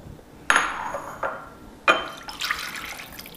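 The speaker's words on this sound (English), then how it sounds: "I'm gonna pour it into a smaller bowl" Ceramic clinks and knocks as egg flower soup is poured into a smaller bowl, followed by a soft splashing pour; close and moderately quiet.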